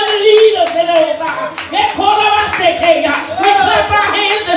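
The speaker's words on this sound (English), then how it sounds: "We clap our hands this morning that we have good leaders in our lives" A church congregation claps hands together during a Sunday prayer, steady rhythmic clapping mixed with a preacher's voice and singing-like chatter throughout.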